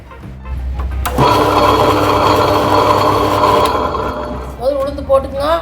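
A wet grinder runs steadily, grinding soaked urad dal and rice for black rice idli batter, a continuous mechanical hum and rumble that starts after a moment and holds at close range.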